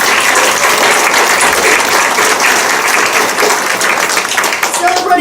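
Theater Guild audience applause in a dinner-theater setting, a loud, dense wash of clapping sustained across the whole moment, close and continuous.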